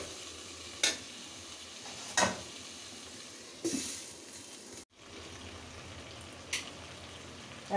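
Tomatoes and spices stir-fried in a pan: a steady low sizzle with a few sharp scrapes of the spatula spaced several seconds apart, close but fairly quiet, no voices.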